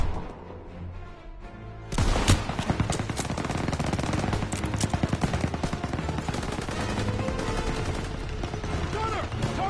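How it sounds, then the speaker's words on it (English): An MG-42 machine gun nest rattles off sustained rapid automatic fire in Call of Duty WWII, loud and continuous for most of the stretch after a quieter start. "Gunner, target that MG-42 nest! Fire!"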